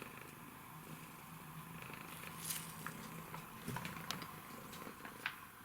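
A cat purrs softly and steadily close by while a peat cup is pulled from an orchid's roots, with faint rustling and small handling clicks over the quiet purr.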